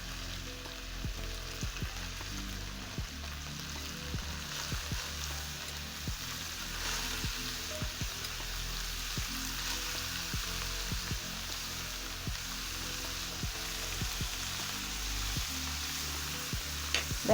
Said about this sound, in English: So at this point, I'm going to add in my cabbage